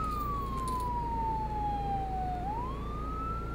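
An ambulance siren wails in one long falling sweep, then rises again, loud over a constant low engine rumble.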